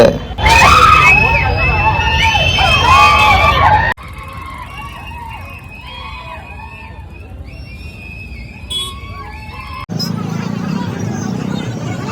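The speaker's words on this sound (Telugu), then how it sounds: "మొత్తం విజిల్ కేకలే." A noisy cinema crowd at a Kalki 2898 AD screening lets out shrill whistles and high screams, rising and falling over a constant babble of voices.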